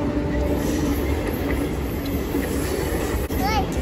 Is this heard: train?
yes